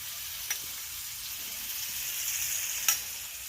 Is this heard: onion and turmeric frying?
yes